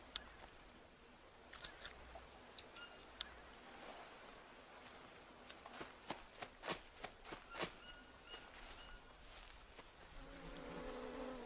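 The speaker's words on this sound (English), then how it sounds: "I just heard bees or mosquitoes or something." Insect buzzing in the jungle survival game Green Hell, a steady drone of bees or mosquitoes running through the clip, with faint clicks and soft rustling on top and no talking.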